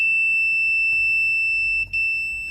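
A steady high electronic tone from an Arduino-driven buzzer set to 100-millisecond timing sounds continuously with faint clicks, holding one pitch, with a brief dip near the end.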